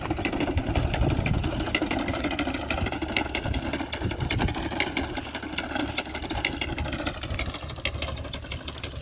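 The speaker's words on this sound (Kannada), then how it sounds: "ಈ ರೀತಿ ಮಿಷಿನ್ ಮೂಲಕ ಬಿತ್ತನೆ ಮಾಡ್ತವ್ರೆ" An engine-driven machine sowing groundnut (peanut) seeds in a field, a steady mid-pitched motor chugging with rapid rhythmic knocking and mechanical rattle, fairly close and continuous throughout without talk.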